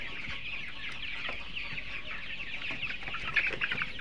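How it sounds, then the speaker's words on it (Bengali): Tiger breed chickens cluck and murmur inside the room where they are kept, several birds making scattered short calls over a soft background, with a brief busier burst of clucking near the end. "আজকে আপনাদেরকে দেখাবো আমাদের নিজস্ব বাচ্চার উৎপাদিত টাইগার মুরগি।"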